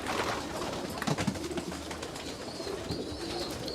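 Pigeons coo softly and steadily inside a racing pigeon loft, with a few louder coos and faint higher chirps over a constant murmuring background, no talking.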